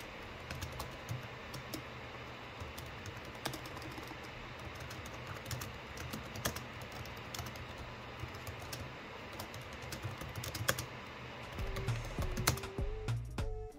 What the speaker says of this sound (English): This is how the keyboard sounds.